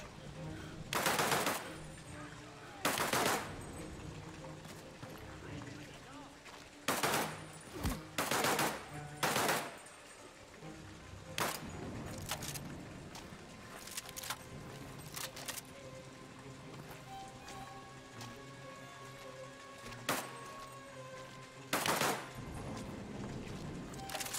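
Submachine gun fire in the war shooter game Land of War, heard as repeated short bursts spaced irregularly over a steady background of battle ambience, loud and close.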